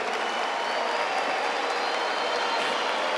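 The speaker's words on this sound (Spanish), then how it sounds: "quiero que le aplaudan a los compañeros" A large crowd at a political party convention applauds continuously, a dense, steady wash of clapping with no pauses.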